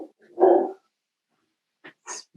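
A dog barks indoors at someone delivering to the house: one deep bark, a short pause, then a couple of sharper yips, close and fairly loud.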